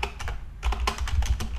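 Quick, close clicks of a computer keyboard as a git command is typed into a console, about a dozen uneven keystrokes in a short burst with a brief pause in the middle.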